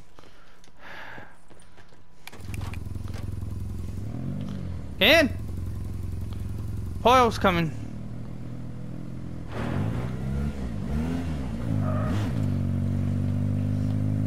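A car engine drones and revs in Call of Duty Black Ops 4, rumbling steadily beneath shouted voices, with a few sharp rising whoosh or siren-like sweeps cutting through partway.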